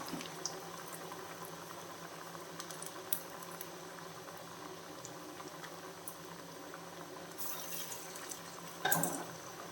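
Green gram vadai fry in hot oil with a continuous soft bubbling sizzle at moderate distance, and a brief louder burst of crackling near the end; no voices are heard.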